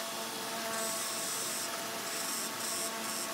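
A fiber wheel polishing a carriage bolt and ferrule in a workshop gives a steady, hissy rubbing whir that runs continuously throughout, close by and fairly quiet, with slight rises and falls in pitch.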